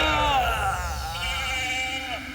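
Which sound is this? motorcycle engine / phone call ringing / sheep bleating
sheep bleating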